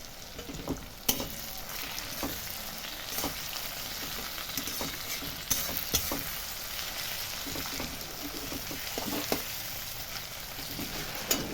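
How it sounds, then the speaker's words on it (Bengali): Crushed ginger and garlic sizzle in hot oil in a pan for dahi butter chicken, with a spatula scraping and stirring in frequent clicks over a steady frying hiss and no talking. "এবার আমি এই যে আদা রসুনকে থেতো করেছি সেটাকে এর মধ্যে দিয়ে দেব।"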